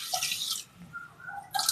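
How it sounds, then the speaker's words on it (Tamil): Water poured from a vessel over dal in a pressure cooker, two bright splashing bursts at the start and end with a quieter trickle between, close and alone with no talk. "இப்போ வந்து பருப்புக்கு வந்து முழுகிற அளவுக்கு தண்ணி ஊற்றிக்கணும்."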